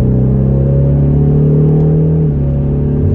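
A 2021 Ford Mustang with the 2.3 EcoBoost four-cylinder, 10-speed automatic and High Performance Package accelerating on a highway, a steady loud low engine drone heard from inside the car, with no talk.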